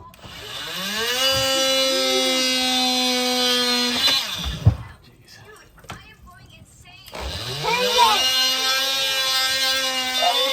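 A saw cuts through 1/2 inch pipe to fit a 3D-printed coupling: two bursts of rising, whining cutting sound, each several seconds long, close by and separated by a short pause with knocking and handling noise.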